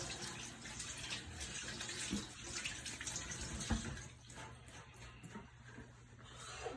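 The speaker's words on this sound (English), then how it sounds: "Make sure you wash your hands for the appropriate amount of time." Tap water runs steadily into a sink while hands are washed with warm soapy water, a soft continuous splashing with faint rubbing and slight fluctuations, heard close and alone.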